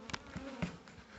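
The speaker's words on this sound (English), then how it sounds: "There's some bees in the corner." Bees buzz in the corner of a hive, a few close, short buzzing bursts rising and fading in quick succession against a quiet background.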